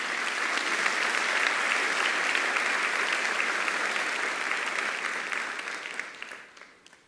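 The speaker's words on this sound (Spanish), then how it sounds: "Dale un aplauso al Señor." A church congregation applauding together, a steady broad roar of clapping from many people that holds for several seconds and then fades out toward the end.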